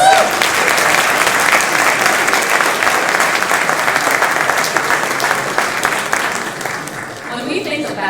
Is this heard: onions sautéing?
no